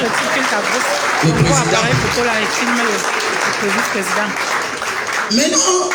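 A crowd claps for a vice president at a political party headquarters welcome in Cameroon, continuous applause under loud overlapping voices and shouting for the whole stretch.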